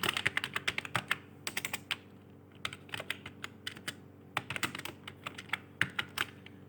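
Rapid clicking of computer keyboard keys, typed in quick irregular bursts with short pauses, close and clear with no voices.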